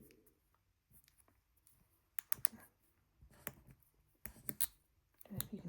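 A Project Ratchet fidget ring clicks softly as it is turned, giving scattered short, faint clicks in small bursts, close up and quiet, with brief low voice sounds in between.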